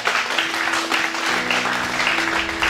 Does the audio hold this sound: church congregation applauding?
yes